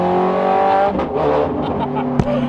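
A supercar accelerates at part throttle with loud, sharp engine notes and abrupt, crunchy downshifts cutting the revs, plus a brief tire chirp near the end, heard up close from inside the car.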